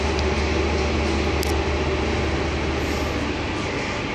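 A double-decker train in Austria gives off a steady low rumble and hum that fills the scene evenly, with no voices and only a couple of faint high ticks.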